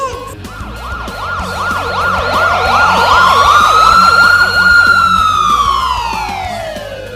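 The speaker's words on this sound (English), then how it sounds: "A for ambulance." An ambulance siren wails loud and close, its tone sweeping up and down repeatedly and then gliding into a long rising and falling cycle, with no voices.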